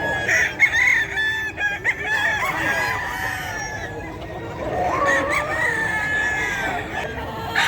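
Chickens and roosters for sale at the Bocaue pet market crow and cluck close by, overlapping calls and repeated crowing over a busy market hum with faint voices in the background.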